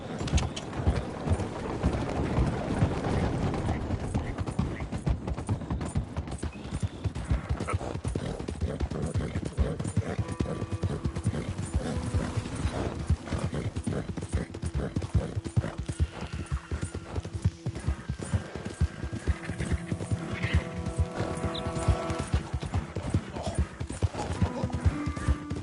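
Horse hooves clip-clop continuously in Red Dead Redemption 2, a steady galloping rhythm with an occasional whinny, layered over game ambience and music throughout.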